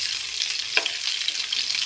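Fish fries in a frying pan in Pakistan with a steady, close hiss and crackle of hot oil, broken once by a brief sharp clink partway through, with no voices.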